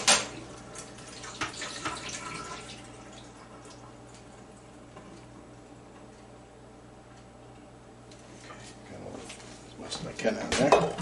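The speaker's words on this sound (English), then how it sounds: "I'm just going to drain them here." Cut potatoes are drained in a home kitchen, with water splashing and a pot clattering loudly at the start, a quieter stretch in the middle, then more pouring and clinking near the end.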